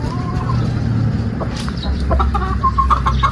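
White's Feby gamefowl rooster at about four months old, clucking in short close calls over a steady background of other birds and farmyard noise, with the clucks growing busier toward the end.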